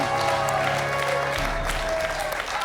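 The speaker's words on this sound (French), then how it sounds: "Je vois que vous applaudissez très sportivement Michel." Studio audience on a French television quiz show final applauding a contestant, a continuous wash of clapping with a low hum underneath, heard throughout.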